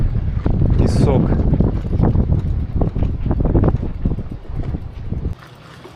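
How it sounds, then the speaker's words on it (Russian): Strong wind raises dust while travelling across Alaska. It rumbles and buffets loudly against the microphone, with someone talking and rapid hoof-like clopping underneath. "Тут ветер пыль какую поднимает."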